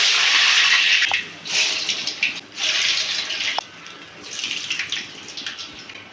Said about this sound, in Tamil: இப்போ நம்ம வடையை தட்டி போட்டுக்கலாம்.